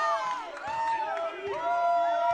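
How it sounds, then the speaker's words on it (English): A home crowd at a holiday-tournament basketball game in the Kettle roars after a three-pointer, many overlapping voices shouting and whooping in a loud, continuous swell. "Crowd's loving it."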